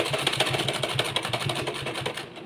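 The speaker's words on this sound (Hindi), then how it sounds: "तो कुछ इस तरीके से हम सिलाई लगाएंगे।" Electric sewing machine stitching a design along a wide neckline, a steady fast mechanical whirring with rhythmic needle clatter running continuously up close, then stopping at the end.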